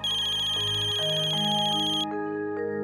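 A telephone ringtone rings steadily and loudly on its own, a bright repeating electronic melody that plays for about two seconds and then gives way to softer ringing tones.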